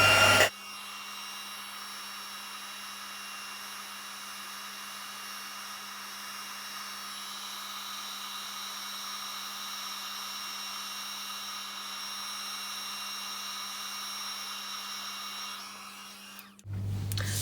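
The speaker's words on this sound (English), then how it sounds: "I'm going to bring the heat tool in and I'm just going to heat that embossing powder" A heat tool blows steadily on embossing powder for a long, even whir with a faint whine, loud and close, and it clicks on and off at either end.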